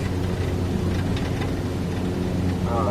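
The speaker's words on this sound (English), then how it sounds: "It's raining." Rain falling in Microsoft Flight Simulator, played on a motion simulator during a flight over the Himalayas: a steady, dense hiss over a constant low rumble, loud and unbroken throughout.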